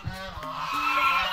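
A duck on a farmhouse property gives a short, nasal, honking call at close range, a single drawn-out cry lasting just over a second.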